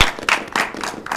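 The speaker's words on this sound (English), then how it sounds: "Give them a round of applause." A small audience in an interactive networking class applauds participants as they return to their seats: a few short, uneven bursts of clapping close by, rising and fading over about a second.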